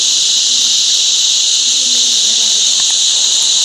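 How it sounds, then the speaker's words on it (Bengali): Crickets shrill in a mountain forest, a dense, unbroken high-pitched chirring that stays loud and steady from start to finish, with only faint, scattered background sounds beneath it. "শুনতে পাচ্ছেন ঝিঁঝি পোকার ডাক"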